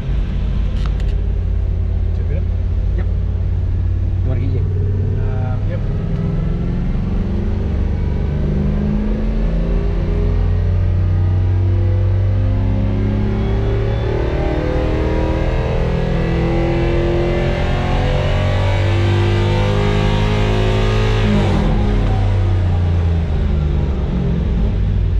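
A Toyota Zephyr with a 1UZ V8 and a Haltech 2500 Elite ECU accelerates in first gear, a loud, close, sustained engine roar rising in pitch with shift-like changes, continuous and unbroken.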